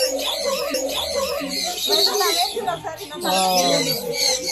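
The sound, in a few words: birds at a sanctuary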